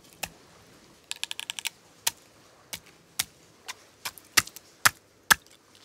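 A knife chops down through the head of a perch on a cutting board, giving a string of sharp, close clicks and taps. A quick cluster comes first, then the single cuts spread further apart, with no talking.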